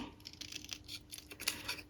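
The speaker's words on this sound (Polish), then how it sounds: "Przytnę to bardzo wąziutko." Scissors make a run of quick, soft snips close by, trimming paper into a very narrow strip for a handmade scrapbooking project; no talking.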